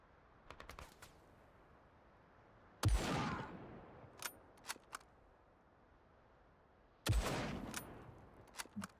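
Gunfire from the turn-based tactics game Menace: scattered short bursts of distant rifle shots broken by two loud close blasts, each trailing off in a long echoing decay.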